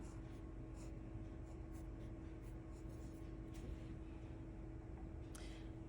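Pen scratching across paper while drawing a box for an area-model division problem, a faint, steady scribble over a constant low room hum, ending with a brief louder knock.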